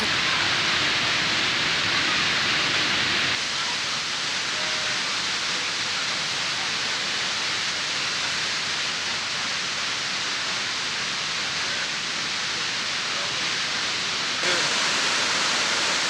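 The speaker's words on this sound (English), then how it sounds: "we found the sound of that roaring water" A waterfall roars in Letchworth gorge, a loud, unbroken broadband rush of falling water that holds steady and close throughout with no voices.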